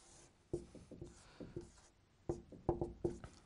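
Chalk or marker strokes on a board during a children's Arabic reading lesson, heard as a series of short, close scratching taps in uneven bursts, with a voice faintly in the background.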